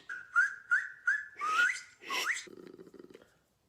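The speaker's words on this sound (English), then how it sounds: "it's not every day you get to just, like, look at someone up close when they're whistling." A person whistles close up: a run of short rising chirps followed by two longer swooping notes, then a softer breathy fluttering tail, with no speech.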